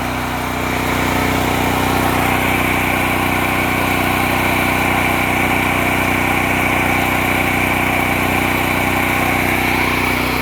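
An old portable generator runs under load after a cold start, a loud, steady close-up engine drone that holds an even pitch throughout with no pauses.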